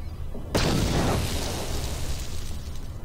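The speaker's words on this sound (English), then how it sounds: "chuck a grenade over there" A grenade blast in the game Star Wars: KOTOR hits suddenly after a short quiet stretch, then a rumbling burst decays slowly over a few seconds.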